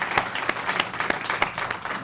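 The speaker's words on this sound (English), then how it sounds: "Let's have a round of applause for that." A press-conference audience claps in a brief, moderately loud burst, with individual sharp claps standing out from the steady patter.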